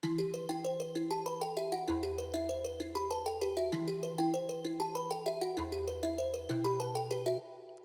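A bright synth melody with Fruity Chorus in FL Studio steps along over a steady low bass, washed in reverb, loud and continuous before cutting off near the end.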